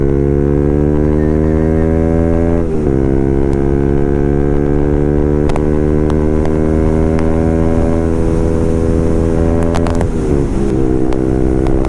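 A Bajaj NS 200 motorcycle with a loose silencer rides slowly, its engine droning steadily and loudly up close, with slight pitch shifts and occasional rattly clicks, no voices.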